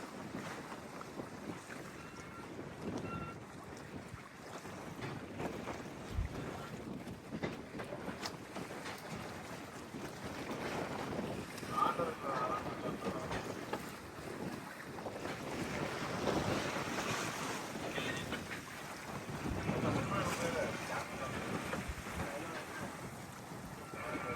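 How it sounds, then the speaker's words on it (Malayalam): Wind and waves buffet a 60-foot deep-sea gillnet fishing boat at night on open water, a steady broadband rush with swells rising and falling throughout, no talk. "ആകെ കേൾക്കുന്ന ശബ്ദം ഈ തിരമാലകൾ വന്ന് ബോട്ടിൽ ഇങ്ങനെ അടിച്ചു പോകണം, പിന്നെ കാറ്റിന്റെ ശബ്ദം തന്നെ ആയിരിക്കുള്ളൂ"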